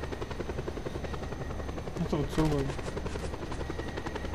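A helicopter in the video game Just Cause 2 thrums steadily with a constant rotor drone throughout, while players talk over it.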